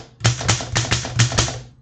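A manual typewriter is typed on up close, seven or eight sharp, loud key strikes in an uneven quick rhythm with a low mechanical thump under each.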